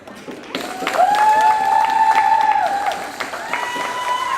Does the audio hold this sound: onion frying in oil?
no